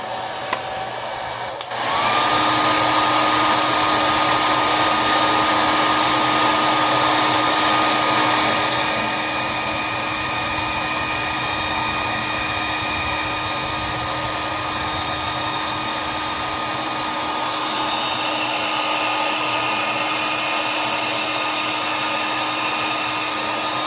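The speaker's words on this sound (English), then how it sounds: "you're going to take your hairdryer again, and we're going to get it really hot to the touch" Hair dryer heating an ostomy wafer until hot to the touch, a loud steady blowing roar with motor hum that starts after a brief click and shifts slightly in pitch as it is moved around.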